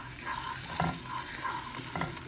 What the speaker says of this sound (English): once the pan's heating up, I like throw some garlic in there